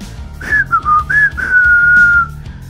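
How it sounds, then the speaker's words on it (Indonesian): Eerie whistling in an audio drama, a thin piercing tune of short gliding phrases ending in a long held note, clear over a soft low rumbling music bed. "kemudian terdengarlah kumandang suara siulan yang"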